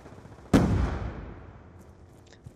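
A single loud gunshot burst from a Counter-Strike-style tactical shooter match, with a sharp attack and a long reverberant tail that fades over about two seconds, then a faint click near the end.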